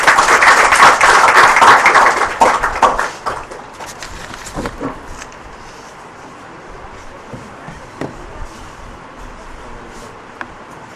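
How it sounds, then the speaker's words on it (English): A loud round of applause from an audience at a coaching institute greets a speaker, full and dense for about three seconds, then thinning out into a few scattered, fading claps. "Can we have a big round of applause for Gurleen?"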